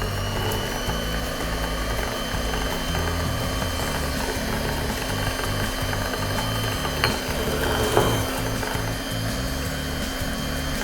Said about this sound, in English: I'm going to start with whisking it. While you're whisking it, add a little bit of the milk.